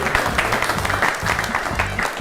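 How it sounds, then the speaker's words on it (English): An audience at a smartphone launch roast show gives a round of applause for the contestants, the clapping loud and close, pulsing with a rough rhythm over low booming music or crowd noise. "Can we have a round of applause for all the contestants"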